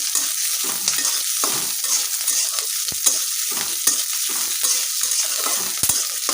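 Chopped green chilies, onion and garlic fry in a pan with a loud, constant hiss and crackle, broken by occasional stirring clinks, with no voices.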